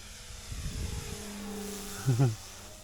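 An 18-year-old E-flite Piper Pawnee radio-controlled model airplane hums steadily in flight, rising to a brief louder surge near the end.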